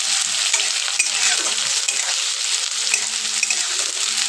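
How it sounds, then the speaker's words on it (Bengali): Onions frying in a pan for a chicken curry, giving a steady, bright sizzle with occasional crackles and stirring scrapes throughout, close and fairly loud, with no talk. "পেঁয়াজটা একটু লাল লাল করে ভাজতে হবে, একটু সময় লাগবে।"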